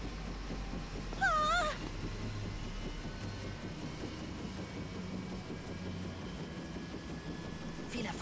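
A cat in Final Fantasy VII Rebirth gives one short, clear meow early on over a quiet, steady low rumble of game ambience.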